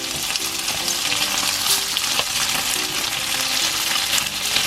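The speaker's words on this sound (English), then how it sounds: "You want to fry it so it's like kind of crispy, not burnt" Tofu frying in a pan for a vegan stir fry, a loud, dense, continuous sizzle with occasional stirring scrapes, no talking.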